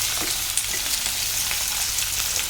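Shallots fry in a hot pan for pepper chicken, giving a dense, even sizzle with faint scattered crackles, close and unbroken throughout.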